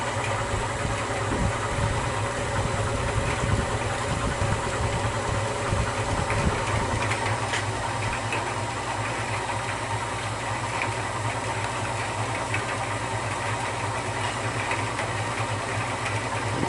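Maxant honey extractor spinning indoors, a steady mechanical hum and rumble with rhythmic vibration and slight shaking, loud and continuous throughout with no talking.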